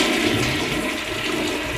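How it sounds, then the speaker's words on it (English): A toilet flushes in the video game Ocarina of Time, a steady, close rush of swirling water filling the whole short moment without any other sound. "Okay, enough with the toilet sounds."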